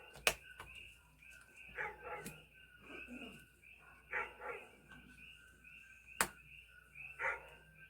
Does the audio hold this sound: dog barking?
yes